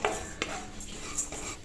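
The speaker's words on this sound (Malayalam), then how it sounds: "നമ്മുടെ അരി ചെറുതായിട്ട് പൊട്ടുന്ന സൗണ്ടൊക്കെ കേൾക്കുന്നുണ്ട്" Matta rice dry-roasting in a pan for Kerala ari unda, a spoon scraping and clinking through the grains with faint crackling pops, close and steady, no voices.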